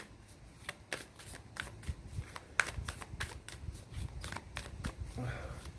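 Tarot cards being shuffled in quick riffling bursts, a fast run of soft papery flicks with light clicks, close and fairly quiet.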